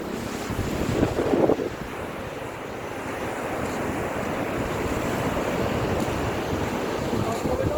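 Sea waves break and wash steadily along a windy shore at Plaridel, with strong gusts buffeting the microphone and a louder surge near the start.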